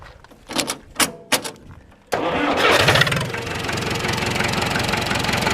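An International B414 diesel tractor engine cranks with several uneven bursts, then catches at about two seconds and settles into a loud, steady diesel clatter that runs to the end.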